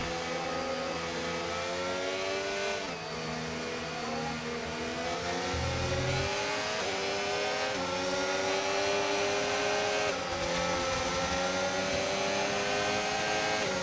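Formula 1 race car engine in the F1 25 video game during a race at the Netherlands circuit, a loud, continuous high-pitched whine that climbs and drops through gear changes over roughly fourteen seconds, with no talking.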